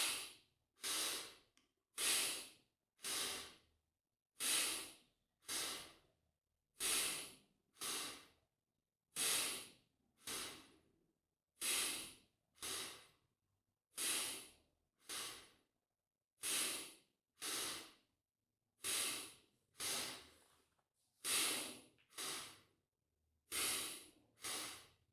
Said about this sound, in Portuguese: Ao inspirar, expanda. Ao expirar, recolha.